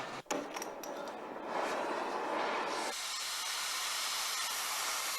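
Steam hissing from a 1921 Grand Trunk 0-6-0 locomotive on a tourist railroad, starting with a sharp clank before a broad, loud rush of escaping steam that settles into a steady, bright hiss.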